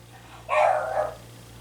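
A pet dog lets out one short, sharp bark indoors, loud and close against a quiet room hum, then falls silent.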